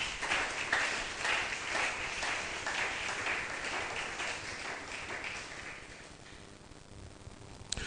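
A church congregation at a Sunday service applauds to acclaim the Lord with a steady patter of many hands, loudest at the start and gradually thinning and fading over the last couple of seconds.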